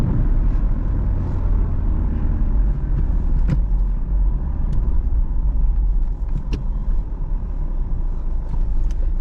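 Manual car cruising in fourth gear, a steady low engine and road rumble inside the cabin with faint clicks and ticks, continuous and fairly loud throughout.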